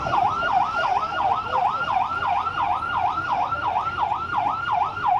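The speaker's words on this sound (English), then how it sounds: "Blaring sirens as scores of people gather on the sides of the road" Police sirens blare continuously on a Ghana roadside as crowds gather, a loud wailing tone sweeping up and down in a steady, rapid cycle over background street noise.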